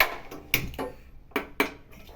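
A metal cooking pot is set down on a gas stove in a home kitchen, giving a few sharp, close clanks and rattles spaced over about two seconds.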